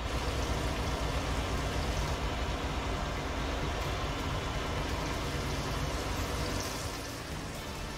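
Water pouring steadily in Farming Simulator 19 while cement-plant raw materials are handled: a dense, continuous rushing wash, even in level, fading slightly at the end, with no talking.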